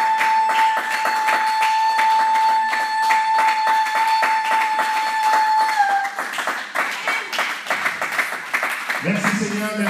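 A church congregation claps steadily in rhythm while acclaiming the Lord, with many voices and a sustained tone over the clapping, full and close throughout.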